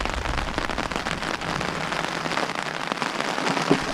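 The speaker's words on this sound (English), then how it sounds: "it definitely looks like it's starting to rain over there" Steady rain falls on a lake during a canoe trip, a dense, even patter of drops hitting the water at a continuous moderate level with no voices.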